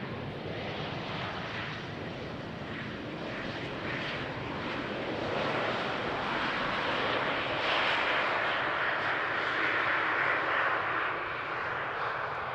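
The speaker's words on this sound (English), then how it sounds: "So this Embraer vacating at the first exit." An Embraer 190 airliner lands at Amsterdam Schiphol, its engines giving a broad, steady roar that swells slightly as it passes. No voices are heard.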